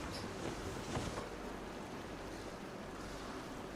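Ocean waves breaking against rocks in the DayZ game world, a steady broadband wash of surf with a faint wind hiss and soft swells, continuous and moderately quiet with no talking.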